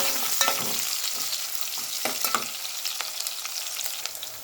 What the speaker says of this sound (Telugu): ఉల్లిపాయ కొంచెం వేగింది